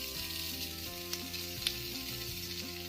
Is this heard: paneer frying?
yes